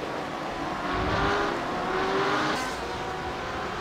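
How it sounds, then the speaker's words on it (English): Two BMW GTE race cars dice for position at Monza in a sim racing game, their engines droning steadily and rising and falling in pitch as they pass, with no talk over them. "A couple of BMWs battling back here."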